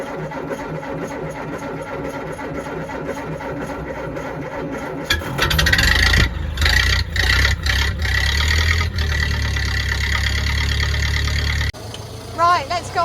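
A 1920s Ford Model A idles steadily from behind the car, first as a soft rhythmic chug, then a louder, rougher running note with some sharp clanks, dropping back at the end.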